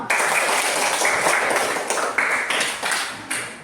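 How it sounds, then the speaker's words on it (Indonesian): Classroom applause for a student: a dense burst of clapping from many hands, loud and continuous, with a few faint voices underneath. "tepuk tangan untuk Mama"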